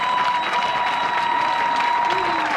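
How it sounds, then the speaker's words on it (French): Dense crowd applause at a presidential campaign rally in Gabon, steady and loud throughout with a faint tone sustained beneath it. "vous devez applaudir Camélia Toutoum-Leclerc"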